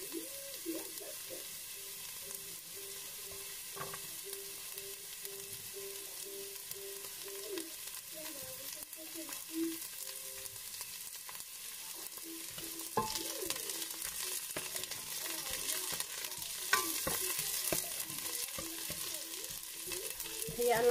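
Garlic fries in a pan of hot oil for sweet and sour fish escabeche, a continuous crackling sizzle with occasional stirring scrapes, close and steady with no talk.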